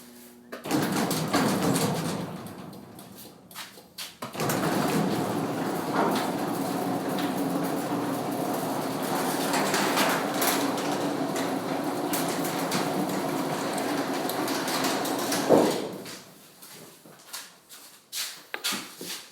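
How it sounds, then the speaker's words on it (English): A residential garage door closes with a sustained mechanical rumble and rattle that runs for about eleven seconds, then ends in a final clunk followed by quieter room noise. "let me put that garage door down right now."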